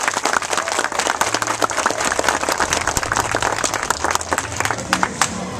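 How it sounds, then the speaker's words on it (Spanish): A community audience gives a loud, sustained round of applause for a National Police community affairs officer in Santo Domingo Este, with dense overlapping claps and some crowd murmur. "le pido un gran fuerte aplauso"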